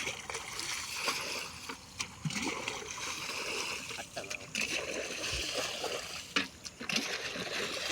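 Water splashes and sloshes as a pool is emptied to catch fish in traditional Konkan fishing, with irregular nearby splatters over a steady watery wash and faint outdoor background.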